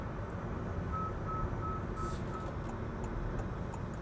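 A Honda City strong hybrid sounds its front collision warning alert as a series of about five short, evenly spaced beeps over steady road and cabin noise while driving.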